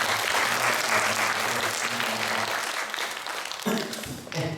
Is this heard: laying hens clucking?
no